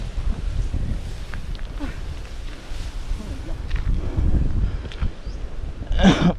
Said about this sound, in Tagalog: Dito pala lumakas yung hangin.